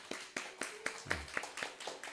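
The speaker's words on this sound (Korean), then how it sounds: "박수 치시겠습니다." Sparse, soft clapping from a small church congregation, with separate claps arriving in a loose, uneven rhythm at a modest distance.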